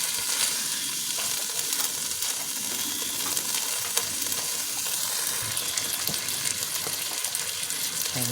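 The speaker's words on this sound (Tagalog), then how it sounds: "Gisa-gisa lang ga. Hanggang kumulong ganyan, umusok-usok." Food being sautéed and fried in a pan, with the ingredients stirred until they steam and smoke, giving a steady close sizzle and crackle with occasional stirring scrapes and no voices.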